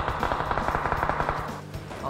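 Rapid automatic gunfire in a PUBG match in a village, dense bursts of shots crackling continuously with no pause, moderately loud and fairly close.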